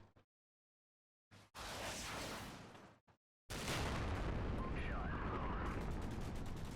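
Mortar rounds exploding in the Cold War combat game Combat Mission: Cold War, heavy broadband blasts arriving in two loud bursts after near silence, with a sustained rumbling roar through the second half.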